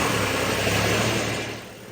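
Engine of a Lincoln MKX / Ford Edge SUV running at idle just after an alternator replacement, a close, steady mechanical hum and whir with no voices, easing slightly at the end.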